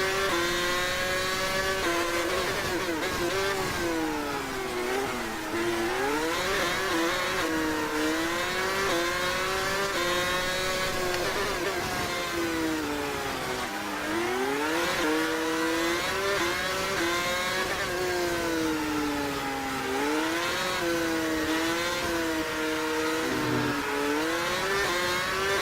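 Formula 1 race car engines from the F1 2016 racing game on the formation lap in Austria, a continuous high-pitched whine rising and falling with repeated revving and gear changes, loud and steady throughout.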